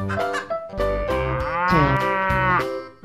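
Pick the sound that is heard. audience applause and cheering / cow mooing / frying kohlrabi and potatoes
cow mooing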